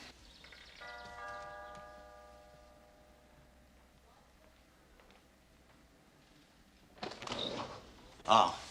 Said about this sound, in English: Why would they ring the bell?